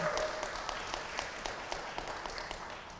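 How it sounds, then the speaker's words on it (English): An audience applauds at an app launch event, with steady, dense clapping running throughout at a moderate distance and a few voices faintly audible underneath. "Big applause for Sierra"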